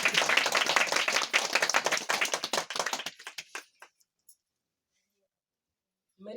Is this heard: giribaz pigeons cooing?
no